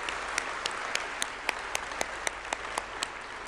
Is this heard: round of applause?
yes